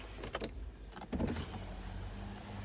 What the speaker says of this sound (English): I'm gonna lower the windows.